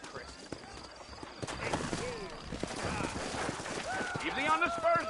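Horses hoofing along in the Western game Red Dead Redemption, with a rhythmic clip-clop of hooves under dense game sound and a voice talking, plus a whinny-like tone near the end.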